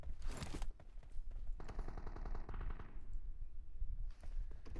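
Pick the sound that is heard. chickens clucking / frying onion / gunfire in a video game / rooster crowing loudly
gunfire in a video game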